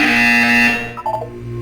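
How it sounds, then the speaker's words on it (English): A harsh, loud electronic buzzer sounds in a Portal 2 video game test chamber, a sustained tonal blare lasting under a second before cutting off into quieter mechanical tones. "You will hear a buzzer. When you hear the buzzer, look up at the ceiling."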